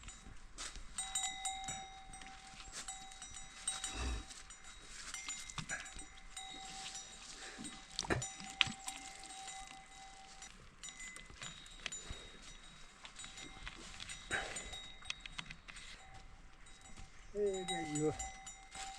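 Cattle wearing cowbells are heard in the jungle. Bells clank and jingle irregularly at moderate distance, there are hoof steps, and a voice is heard faintly now and then.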